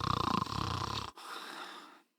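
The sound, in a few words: person imitating snoring while reading a comic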